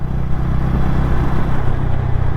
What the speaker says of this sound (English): all through the ride I experienced a very uniform smoothness from the engine